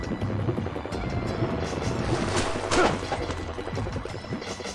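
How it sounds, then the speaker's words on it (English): Helicopter rotor thrum in the video game Ninja Gaiden Sigma, a continuous low chopping drone with a sharp crash or thwack near the middle, no voices. "I hear a stupid helicopter"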